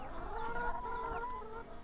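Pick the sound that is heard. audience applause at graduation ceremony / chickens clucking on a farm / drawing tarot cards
chickens clucking on a farm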